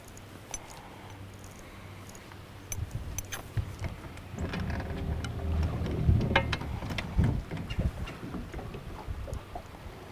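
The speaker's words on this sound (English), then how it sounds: "Wind is quite a bit stronger today than it was yesterday." Strong wind blows outdoors across shallow fishing flats near an old dock, a steady low rumble and buffeting that swells in gusts through the middle of the stretch.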